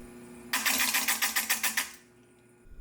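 A faceting machine grinds a large pear-cut quartz gemstone with a coarse 60-grit lap, giving a loud rapid rhythmic grating whir that starts abruptly, pulses steadily for about a second and a half, then stops.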